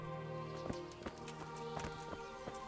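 Horse hooves clip-clop at a steady walking pace in Kingdom Come: Deliverance, a series of evenly spaced, moderately loud thuds over a faint sustained game background with no talking.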